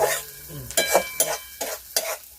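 Chopped onion for sev usal roasting in a pan, a soft sizzle broken by several sharp scraping stirs of a spoon against the metal, close and without talk.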